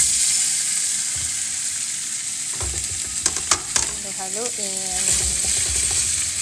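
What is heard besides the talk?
garlic and sausage frying in a pan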